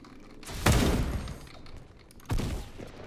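Gunshots in the Roblox game Da Hood, two separate blasts spaced a couple of seconds apart, each trailing off into a rumbling decay at moderate loudness without any voices.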